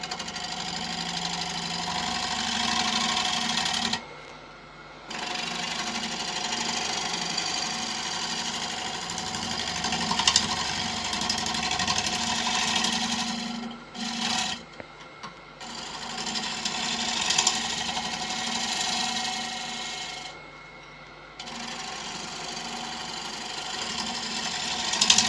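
Continuous broadband scraping of a gouge making pull cuts on macrocarpa cypress spinning on a wood lathe, steady and close with a low motor hum, broken by a few brief pauses where the tool lifts off.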